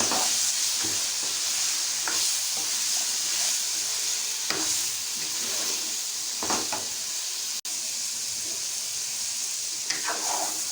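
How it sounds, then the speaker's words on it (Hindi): Half a kilo of chickpeas is stirred and fried with spices, making a constant hissing sizzle punctuated by repeated spoon scrapes and knocks against the pot, up close and without talk. "चने इसमें मैं शामिल कर दूँगी। और अच्छी तरह से इसको हम करेंगे मिक्स।"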